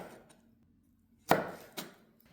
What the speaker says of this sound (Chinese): 切成薄片后的番茄再用刀切成条，然后把切成条的番茄再切成丁